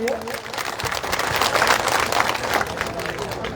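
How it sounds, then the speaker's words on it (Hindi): Crowd applause after a speech at an outdoor village gathering, a broad, continuous roar of clapping mixed with crowd noise, steady and loud throughout with a brief tonal sound near the start. "एक बार जोरदार तालियां हो जाए इनके लिए"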